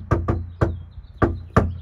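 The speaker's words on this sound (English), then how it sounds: "Let's go beat down his door and see what's up." Five sharp knocks on a house door, loud and close, struck in uneven pairs and singles with short silent gaps between them.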